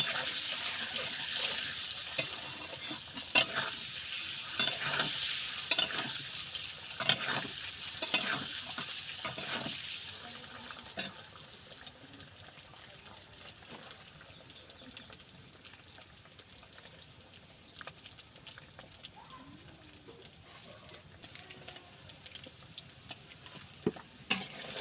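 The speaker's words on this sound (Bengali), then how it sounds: "ডিমগুলো সুন্দরভাবে ভাজা হয়ে গেছে" Eggs frying in oil in a pan with salt and a little turmeric. A steady sizzle runs under repeated stirring scrapes for about ten seconds, then fades to a quieter simmer with occasional utensil taps. No one speaks.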